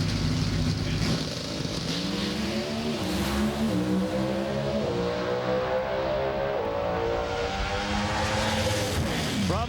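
NHRA drag racing cars at the Fall Nationals roar at full throttle down the quarter mile, a loud continuous engine blast with rising revs through the run.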